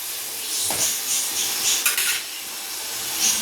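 Shallots and tomatoes are sautéed in a pan for a mutton chalna, with soft scrapes and clinks of a spatula against metal over a light, continuous sizzle, moderately close and without speech.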